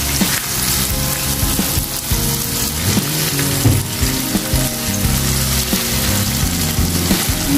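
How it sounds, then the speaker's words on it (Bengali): Chicken kala bhuna sizzles and fries in a pan while it is stirred, giving a steady close crackle with scraping stir sounds throughout and no talk. "ভালোভাবে নেড়ে চেড়ে নিচ্ছি।"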